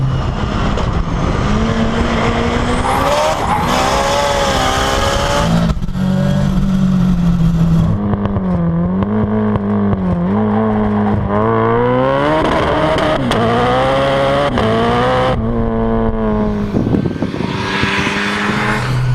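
A 600 hp Ford Escort Cosworth driven hard, its engine revving loud and close through rising and falling pitch sweeps across gear changes, sustained without pause.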